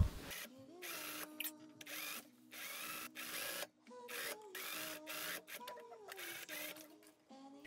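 A domestic sewing machine top-stitches a narrow 5 mm double-fold hem on a summer dress, its motor whirring in bursts of rapid needle clatter separated by short pauses, close and fairly loud.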